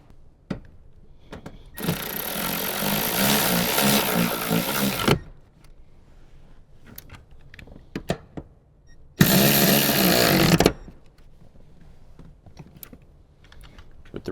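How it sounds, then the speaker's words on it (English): A 14mm socket on a ratchet tightens the rear seat bolts in a Toyota Tundra, with two sustained bursts of rapid ratcheting, one long and one short, set between quiet handling clicks. "Now we can grab our 14mm socket and tighten those down."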